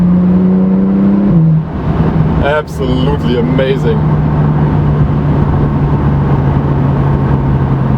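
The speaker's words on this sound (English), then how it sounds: "The engine is so powerful. 560 horsepower in this Turbo S here." A 560-horsepower Porsche 911 Turbo S (991) engine drones steadily while driving, a loud constant hum with a brief pitch shift, as someone speaks briefly over it.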